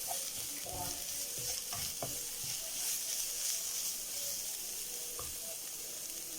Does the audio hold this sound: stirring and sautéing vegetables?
yes